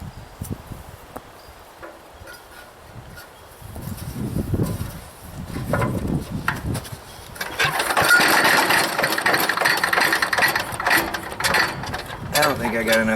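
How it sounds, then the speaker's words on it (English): Gas engine on a wood chipper running rough and sputtering, with heavy compression, building from uneven low chugging into a loud, steady mechanical roar with clanking, while someone talks briefly near the start. "Sounds like it's sputtering."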